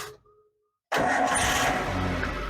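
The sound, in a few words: Suzuki Carry 1.5 engine starting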